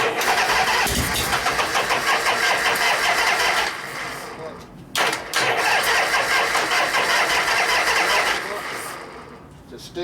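A 1973 Harley-Davidson FX 74ci shovelhead motorcycle is cranked by its electric starter and catches, a loud close rumbling engine note that dips briefly midway, then surges again before settling lower toward the end.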